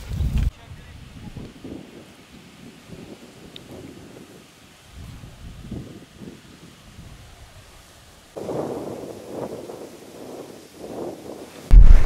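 Strong wind on a river while fishing buffets the microphone in low, rumbling gusts that rise and fall, with louder blasts in the latter part and a sharp burst at the end.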